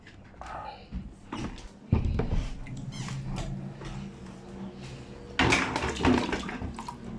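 Dirty water from a channa fish tank is poured out in splashing bursts, one pour starting near two seconds and a heavier gush later, with faint handling noises between.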